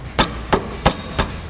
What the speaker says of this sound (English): we might need a hammer to get this